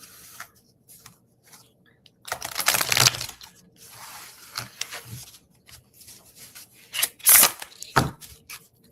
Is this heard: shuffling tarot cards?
yes